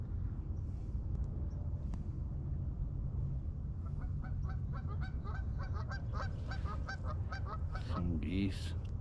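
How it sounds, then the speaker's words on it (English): Geese honk along a slow-flowing river, a scatter of loud nearby calls building in the second half over a low outdoor rumble, with a voice briefly heard. "Some geese."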